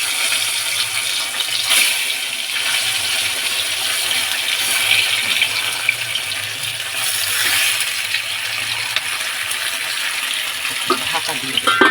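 Katla fish slid into hot oil on a gas stove, a steady crackling sizzle that holds at an even, fairly loud level throughout with no talking.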